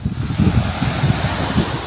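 Waves washing against the shore on Burias Island under a strong northeast monsoon wind, a steady low rolling surf with continuous wind buffeting the microphone and no voices.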